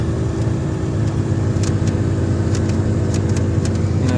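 A VAZ 2110 car engine runs with a steady, loud, close mid-range drone and faint intermittent ticking, with no talk over it.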